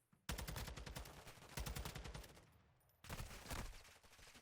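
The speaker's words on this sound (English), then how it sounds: "Let's listen to these bullets." Automatic gunfire in Call of Duty Modern Warfare II, a competitive video game: three long, loud bursts of rapid shots, each separated by a brief pause, with no talking.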